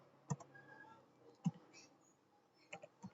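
Commands typed on a computer keyboard while configuring a Cisco switch: a few quiet, sparse key clicks in a near-silent room, spaced irregularly with a small cluster at the end.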